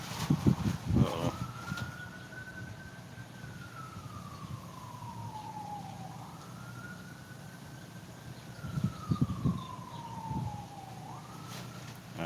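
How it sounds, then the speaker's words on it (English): An ambulance siren wails in slow rising and falling sweeps, loud and fairly close, with heavy engine rumble from a passing vehicle at the start and again near the end. "I believe it's the ambulance."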